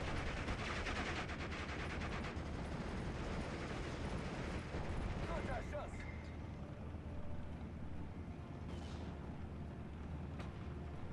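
Sustained mortar fire and gunfire from the World War II strategy game Steel Division: Normandy 44, a dense rumbling barrage of blasts and shots that starts heavy and eases slightly, with a voice talking over it throughout.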